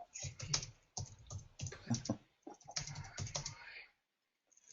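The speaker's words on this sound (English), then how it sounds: "I can hear you typing" Rapid typing on a computer keyboard comes in several close, clattering bursts with short pauses between them, then stops into silence.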